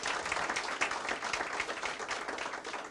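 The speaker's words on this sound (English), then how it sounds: "Can we give them a round of applause?" Audience clapping at an education commission meeting, a fairly faint but continuous patter of many hands, steady and even throughout without speech.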